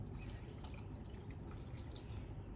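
Vinegar poured into a pan and dripping while cooking paksiw na dilis, a soft, faint trickle and patter of liquid alone, steady through the moment.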